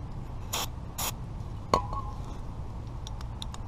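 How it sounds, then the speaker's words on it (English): Two short hissing bursts of brake cleaner spray onto a car's carbon-fouled throttle body, each about a quarter second long, followed by a sharp metallic click and a few faint light taps in a quiet workspace. "You're going to want to use some throttle body cleaner or alcohol or some brake cleaner."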